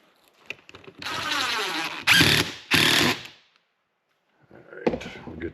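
A power drill whirs as screws are driven into wood on plywood shop walls, with a long run and then two short bursts, followed by some handling clatter.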